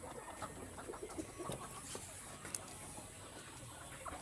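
Chickens in a pen before being fed corn, quiet irregular clucking and shuffling close by against a low steady background hiss, with a couple of sharp clicks.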